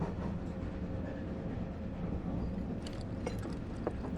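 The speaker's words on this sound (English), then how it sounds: "We're on a train." Train ride in the video game Final Fantasy VII Remake: a steady, loud rolling rumble of the rail cars, with faint rhythmic clicks and rattles layered on top.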